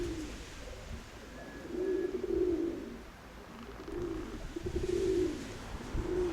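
Domestic pigeons coo in a loft, soft low rolling calls repeating in slow swells every couple of seconds, fairly faint against a quiet background hum.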